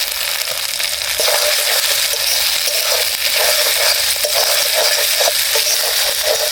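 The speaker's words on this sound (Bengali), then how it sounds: "আদা রসুনের কাঁচা গন্ধ যাওয়া অবধি ভেজে নিলাম।" Ginger-garlic paste and chopped green chilli fry in hot oil over tomatoes for an egg poach curry, a loud, steady bright sizzle with scattered pops and scraping stirs, close up and without talk.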